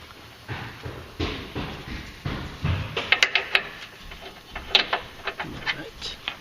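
A wrench loosens a 22 mm sway bar bolt on a 2011 Scion tC, giving a series of close, sharp ratcheting clicks and metallic knocks in an irregular rhythm, with faint background noise.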